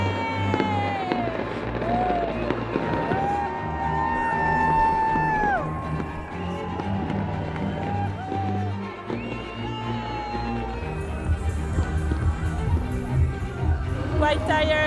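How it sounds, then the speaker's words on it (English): A harbour crowd cheers and whoops as the Team SCA racing yacht arrives in Itajaí, a steady wash of distant voices and shouts under a narrating voice and background music. "As Team SCA enter Itajaí harbour, the crowd is delighted to welcome them at last."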